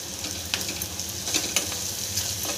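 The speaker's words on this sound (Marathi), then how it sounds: "सगळं परतून घ्यायचं कांदे।" Chopped onions and onion-garlic masala sizzle and crackle in hot oil in a pan while being stirred, a steady close frying hiss with small pops.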